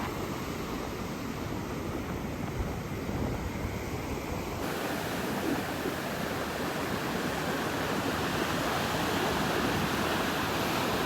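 Ocean waves wash up on a beach in a continuous, loud, broadband roar of surf and wind, steady from start to finish without any voices.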